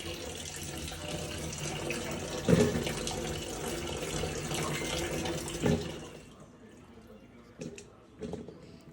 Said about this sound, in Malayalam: അതിന് വേണ്ടിയിട്ട് നമുക്ക് ആദ്യം ശകല ഉപ്പൊക്കെ ഇട്ട് മുന്തിരിങ്ങ കഴുകിയെടുക്കാം